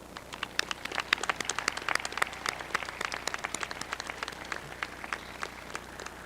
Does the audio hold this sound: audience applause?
yes